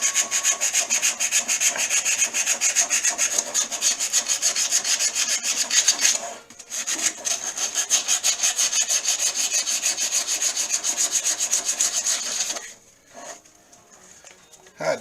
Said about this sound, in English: Trying to get just a light sand on the inner edge there to make it come off a little smoother